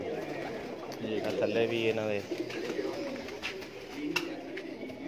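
Lal pari pigeons coo in low, throaty rolling calls, one clear bout near the start, while someone talks over the birds in a pigeon loft.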